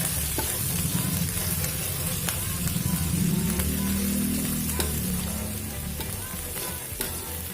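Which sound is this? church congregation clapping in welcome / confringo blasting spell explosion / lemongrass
lemongrass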